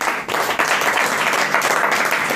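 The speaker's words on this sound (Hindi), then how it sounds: "ताली बजाइए एक बार।" Audience applause at a recited poem about Swami Vivekananda, a dense, loud burst of many hands clapping that runs steadily through the short moment with no talk.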